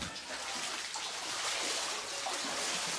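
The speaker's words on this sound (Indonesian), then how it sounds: "Banjir di Kecamatan Dawar Blandong terjadi setiap tahun akibat luapan Sungai Lamong." Floodwater from the overflowing Lamong River in Dawar Blandong, Mojokerto, East Java, running as a steady, dense rush of water that continues without a break through the whole stretch.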